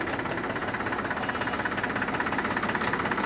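A 42 hp Mahindra tractor from 2011 runs steadily close by, its engine giving a dense, loud, continuous chugging rumble with a slight knocking texture and no pauses or voices.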